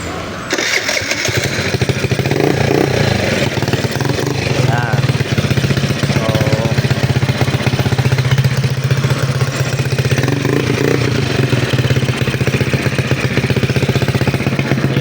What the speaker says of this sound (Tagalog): testingin natin yung rapid backfire ni sir